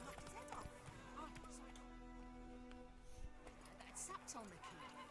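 A horse in Witcher 3 canters along a road, its hoofbeats a soft rhythmic clip-clop beneath a voice and a low ambient drone.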